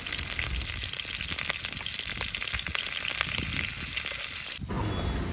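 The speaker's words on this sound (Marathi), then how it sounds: "थोडंसं तेल गरम करून त्यामध्ये हळद, मोहरी आणि जिरे देऊन एक तडका देऊया त्याला।" Hot oil tempering with turmeric, mustard seeds and cumin for a village-style raw mango pickle, a loud, steady sizzle and crackle of popping seeds close by, cutting off abruptly near the end.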